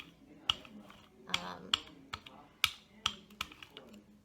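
Faint, sparse clicking of computer keyboard keys from a room downstairs, with a handful of irregular taps spread across a few seconds and no talking.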